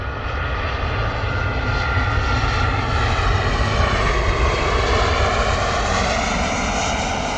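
An airliner approaching Bristol Airport: a loud, steady engine roar that holds at the same level throughout, with no talk.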